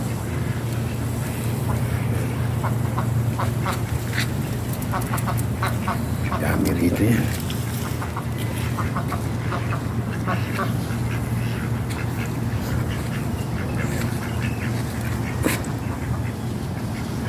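Ducks quack repeatedly amid a busy outdoor background, with a person speaking briefly over the scene.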